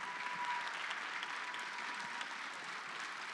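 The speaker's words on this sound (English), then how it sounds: "All right, round of applause for Mrs. Kime." Audience applause at an elementary school musical: steady, continuous clapping from a crowd, moderately distant and even throughout.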